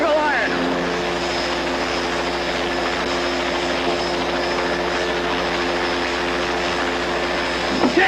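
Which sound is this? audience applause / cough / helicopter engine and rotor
helicopter engine and rotor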